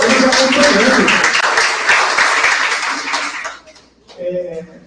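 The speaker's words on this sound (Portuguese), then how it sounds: "uma salva de palmas para os alunos que estão aqui acompanhando" Loud applause from an audience at a public hearing on a school campus, given for the students present, with voices mixed in, stopping abruptly before talk resumes.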